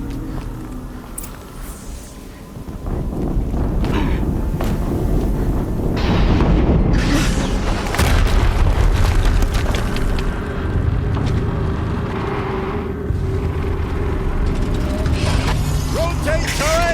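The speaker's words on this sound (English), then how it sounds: "Another explosion." Explosions and heavy mechanical rumbling in the video game Horizon Zero Dawn, a loud sustained roar of booms and crashing debris that swells after a quieter opening and stays dense throughout.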